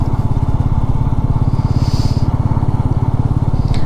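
Royal Enfield Meteor 350 motorcycle in Chandigarh with about 33,000 km on it, its single-cylinder engine thumping steadily and loudly at close range in an even, rapid pulse, with no talk.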